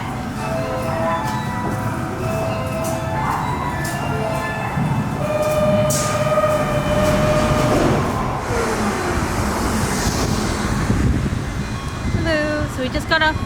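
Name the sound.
subway train in station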